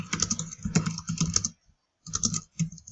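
Fingers tap a computer keyboard in an office, quick clustered keystrokes in two bursts separated by a short pause, close and clear with no talking.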